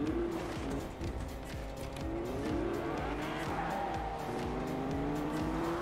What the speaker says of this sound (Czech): Auto, ve kterém teďka jsem má nejrychlejší akcelerace ve hře, takže by neměl být problém se rychle rozjet